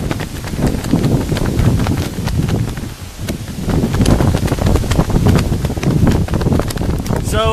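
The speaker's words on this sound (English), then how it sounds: "So it's very, very windy." Strong, cold wind blows outdoors on a cross-country walk, a constant loud roar buffeting the microphone for the whole stretch, with no pauses or talk.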